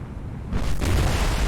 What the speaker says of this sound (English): Another big secondary explosion in front, or just behind the bridge.